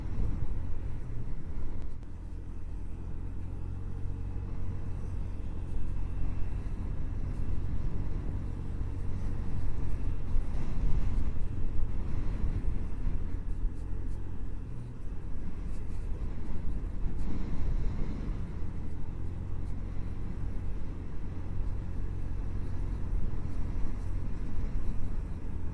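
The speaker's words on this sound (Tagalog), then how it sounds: "Sadyang malakas lang yung hangin." Strong wind buffeting the rider while on the road on a Honda Genio scooter in Infanta, Quezon, a steady loud rumbling roar that continues without break, mixed with engine and road noise.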